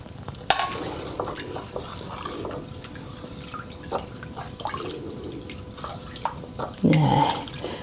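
Spelt sourdough starter and water are stirred into dough with a spatula, giving soft scraping, sticky stirring strokes up close with occasional clinks and drips, swelling into a louder burst of mixing near the end.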